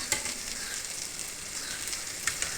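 Prawns fry with curry leaves and chili powder in a pan, a Malabar-style nadan dish, producing a continuous bright hiss close by with a few scattered spits and pops.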